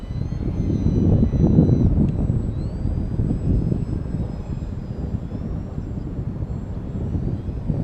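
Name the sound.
FT Simple Scout RC plane flying with slow fly prop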